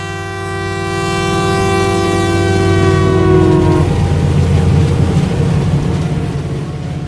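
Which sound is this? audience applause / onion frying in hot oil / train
train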